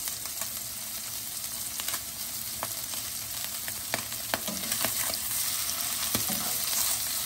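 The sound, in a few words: sea trout fillets searing in oil in a pan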